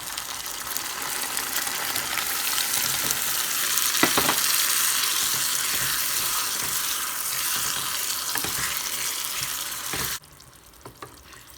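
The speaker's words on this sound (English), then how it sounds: "Gonna keep cooking the pineapple on medium heat, constantly swirling to get the juices moving." Pineapple pieces frying in a pan over medium heat, giving a steady, loud, close sizzle that runs continuously with faint stirring clicks before dropping off abruptly near the end.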